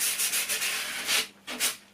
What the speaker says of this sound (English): I'm not going to need to sand this a lot, so I'm literally just going to go over that top edge like so.